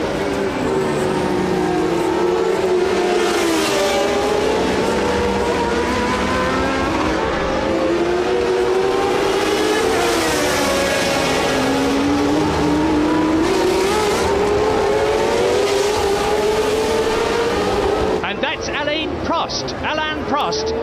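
Formula 1 cars at the 1981 San Marino Grand Prix, including Eliseo Salazar's March, scream past in succession, their high-revving engines rising and falling loudly and continuously under a commentator's voice.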